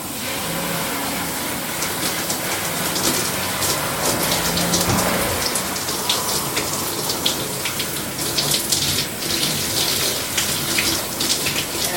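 A handheld shower sprays water over old Senegalese twists, a steady, close hiss of spattering water that runs unbroken with no talk.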